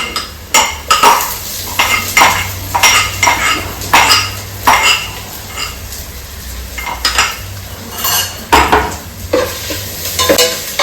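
Ginger and garlic paste frying in a pan for fish soup, with repeated sharp metal utensil scrapes and clinks against the pan over a steady sizzle, close and fairly loud, no talking.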